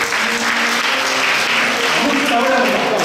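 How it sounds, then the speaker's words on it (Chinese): A church congregation applauds at a Sunday service right after an infant baptism, a steady, dense wash of clapping from many hands that holds evenly for about three seconds. "拍手鼓励一下。"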